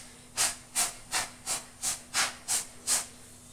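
A kitchen gas burner with water clogging it hisses in eight evenly spaced bursts, roughly every half second, as someone tries repeatedly to light it; close and fairly quiet, no talking.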